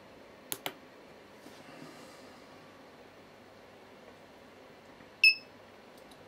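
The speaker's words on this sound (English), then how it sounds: "at the end of each cycle it gives a beep" A Raspberry Pi program driving a PiGlow LED board gives a single short electronic beep at the end of a cycle, heard over faint background hiss after a couple of earlier clicks.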